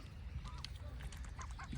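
Faint honking calls from swans in a lakeside park, a few short cries scattered over a steady outdoor murmur, somewhat distant.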